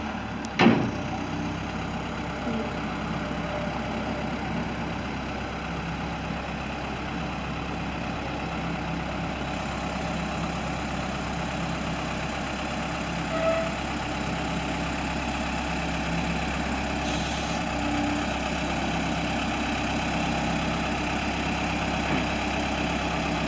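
A 2007 LULL 944E-42 telehandler lift idles with a steady low diesel rumble, constant and close throughout, with a brief knock near the start and no talking.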